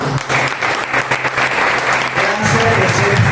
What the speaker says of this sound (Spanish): De verdad que quiero que se den un aplauso a ustedes mismos.